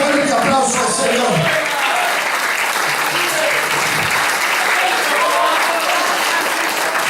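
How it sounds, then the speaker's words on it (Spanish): A church congregation claps loudly and steadily during a sermon, a dense, sustained wash of applause that fills the whole stretch with little letup. "Alabe la grandeza de Dios y denle un fuerte aplauso al Señor."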